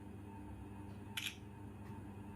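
A single quick Oppo A17 phone camera shutter click, short and crisp, followed by a fainter second tick, over a quiet steady hum.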